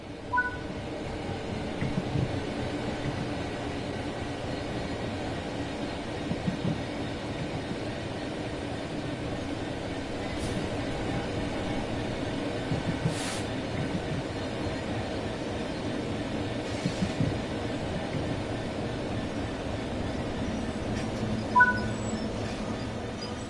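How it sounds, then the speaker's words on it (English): A train in the Train Simulator video game coasts on level ground, a steady continuous rolling hum with faint periodic clicks and no talking, holding an even level throughout. "The train will then coast on level ground, and the train will only slow down very gradually."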